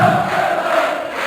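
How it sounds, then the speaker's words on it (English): A crowd at a PDC darts match in Germany roars and cheers in a steady, loud, sustained wash of voices with no single speaker standing out. "And the crowd are enjoying it."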